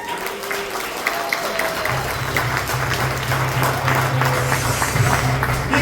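Audience applause at a comedy competition in Erie swells as a comedian is welcomed to the stage, dense clapping building and holding steadily through most of the stretch, fairly close and full.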